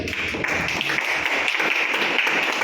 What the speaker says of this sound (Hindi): सुबोध चतुर्वेदी सर के लिए जो ताली बजाएंगे